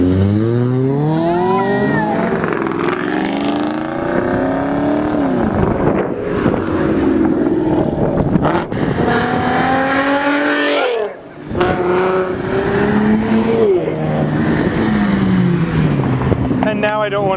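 An Amphicar engine runs hard, revving up and down in long rising and falling sweeps, loud and close, with wind buffeting the microphone and a brief dip near the end.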